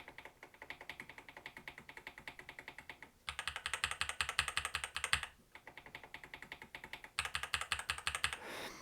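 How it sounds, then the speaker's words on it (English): Rapid typing on an Epomaker Brick 87 mechanical keyboard with plastic keycaps, steady clacky keystrokes close by in two louder bursts between softer stretches, no talking. "this actual plastic that the keycap is made from has a very unique sound to it"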